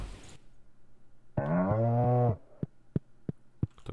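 Cows moo in the Stardew Valley farming game: one long, loud, harmonic low moo of about a second stands out clearly, followed by a string of sharp, evenly spaced clicks from the game.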